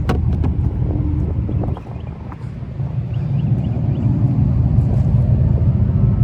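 A deep, continuous exhaust-style rumble with faint rattling over it, played through the speakers of a 2025 Dodge Charger Daytona Scat Pack electric car, steady and fairly loud.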